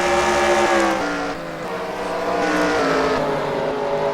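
Race truck engines howling around Oxford Plains in a racing video game, a loud sustained multi-engine drone with pitch rising and falling as the trucks shift and run the track, no talking.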